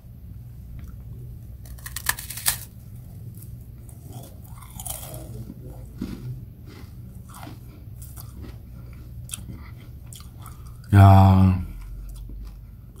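Freeze-dried watermelon bitten and chewed close up gives scattered crunchy snaps and crackles, followed later by one loud burst, with a brief voice in Korean.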